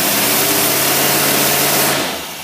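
Cadillac engine fitted with a 1962-66 Rochester 4-jet carburetor revving hard, a loud close steady roar with a droning tone that drops away abruptly near the end, no talking.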